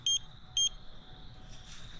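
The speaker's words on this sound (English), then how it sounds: "this is going to verify with beeps and flashes" Two short, high-pitched electronic beeps sound about half a second apart, followed by a faint lingering tone in a quiet room.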